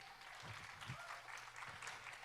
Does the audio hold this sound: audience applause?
yes